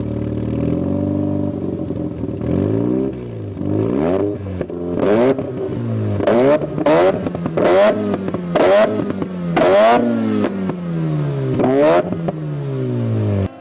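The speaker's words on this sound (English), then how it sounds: "I think that this exhaust is actually pretty loud compared to its name" Turbocharged Mazda FC RX-7 rotary with an HKS Silent Hi-Power exhaust, idling smoothly then blipped through a series of sharp, loud revs that rise and fall in quick succession, close up with no talk.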